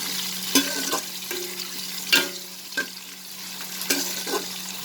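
Onions fry in a pan for potato pulao, with a soft, steady sizzle. Intermittent scraping and clinking stir strokes sound up close, and a low steady hum runs underneath.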